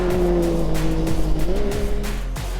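A Yamaha YXZ side-by-side in sport shift mode races a dirt short course, its engine droning steadily loud and close, pitch climbing and shifting through gears with brief tire scrabble and bursts.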